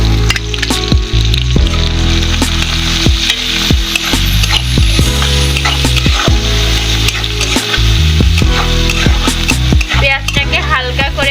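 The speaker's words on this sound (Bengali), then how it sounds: "কুচি করা পেঁয়াজটাকে আমি তেলের ভেতরে দিয়ে দিচ্ছি।" Chopped onion fries in hot oil in a wok, giving a loud, continuous sizzle up close, punctuated by frequent sharp knocks and scrapes from a stirring utensil.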